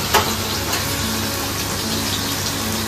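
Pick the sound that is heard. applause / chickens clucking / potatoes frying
potatoes frying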